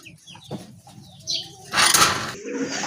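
Large pigeons flutter their wings in a short burst, with soft coos and clucking bird sounds around it, close and moderately loud.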